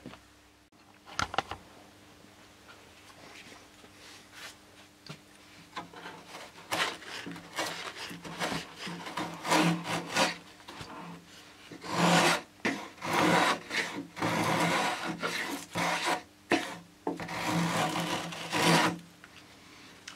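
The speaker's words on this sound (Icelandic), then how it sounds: "Hérna er ég að hefla" Balsa wood being planed with a small balsa plane while shaping the tail surface of a model Bellanca Decathlon: repeated scraping, rasping strokes that start sparse and grow into dense, close bursts, with no talk.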